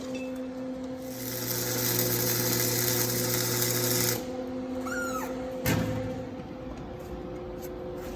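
A wire-feed welder running a bead, heard as a steady buzzing crackle with a humming tone for about four seconds before it stops, followed by a short clank and quieter shop noise.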